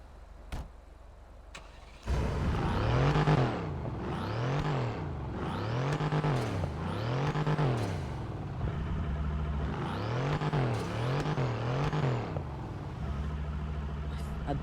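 A car engine in the GTA 5 video game is revved in a series of rising and falling bursts after starting up, roughly six to eight throttle blips with a rhythmic, close and loud engine note.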